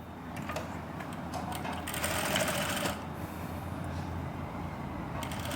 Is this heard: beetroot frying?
no